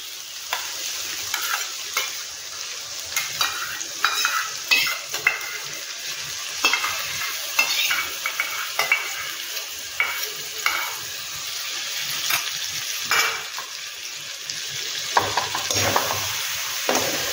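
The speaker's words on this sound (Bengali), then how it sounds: "দইটাও একটু ভালো করে তোমার মশলার সঙ্গে দইটাকেও মিশিয়ে নিতে হবে" Curd being stirred into spices in a frying pan, with steady scraping and stirring strokes over a continuous sizzle, close up and without talk.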